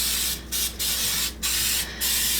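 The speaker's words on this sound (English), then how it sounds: "I'm just gonna take my coconut oil spray, or you can use whatever vegetable oil spray you enjoy," Coconut oil spray hisses from a can onto chicken breasts in four close, loud bursts, each about a third of a second long and separated by short pauses.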